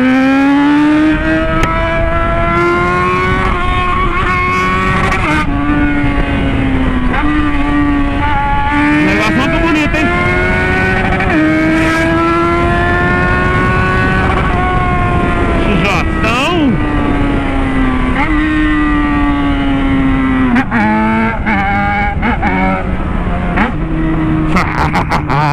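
A motorcycle engine roars steadily and loudly, its pitch rising and falling with the throttle, while a person talks over it.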